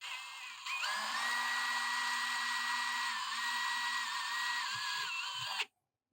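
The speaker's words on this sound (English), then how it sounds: "So pilot hole drilled." A power drill runs steadily for about five seconds, boring a pilot hole in a diesel tank for an Autoterm diesel heater install in a Carthago Chic C-Line motorhome, with the whine holding near and loud before stopping abruptly.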